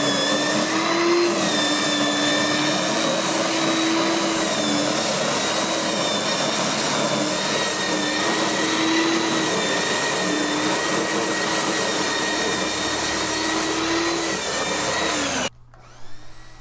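A Black and Decker GD300 electric rake and scarifier runs steadily and loudly, its motor holding a constant whining drone with a few slight pitch wobbles, then cutting off abruptly near the end.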